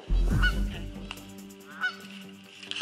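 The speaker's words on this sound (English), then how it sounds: "We just walked up on a goose nest. They can be very protective." Geese honking loudly and agitatedly near their nest in a swamp, a burst of harsh calls up close at the start followed by a second honk about a second later.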